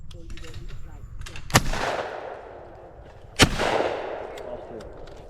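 Two sharp shotgun shots at a pair of clay targets at a shotgun meet, about two seconds apart, each loud with a short echoing tail, over quiet outdoor ambience.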